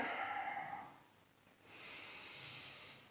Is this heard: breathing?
yes